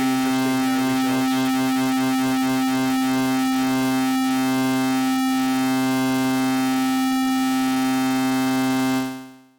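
STS Triangle & Pulse VCO modular synthesizer oscillator under modulation, producing a loud, dense, continuous harmonic drone with shifting, sweeping overtones and rhythmic wobble, sustained alone before fading out at the end.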